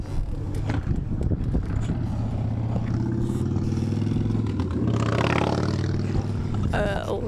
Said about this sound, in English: Nice loud motorcycle driving by